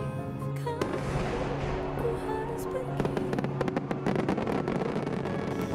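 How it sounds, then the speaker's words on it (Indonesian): Fireworks and firecrackers go off outdoors in a dense string of sharp cracks and pops over a rumbling background. The bursts grow busier toward the end and ring out with no one speaking over them. "Udah lama banget aku ngeliat petasan."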